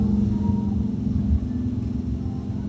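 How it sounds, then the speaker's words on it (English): A noisy motor boat passing nearby, a low, rough engine rumble holding steady and fairly loud for a few seconds with no voices. "It's a very noisy boat."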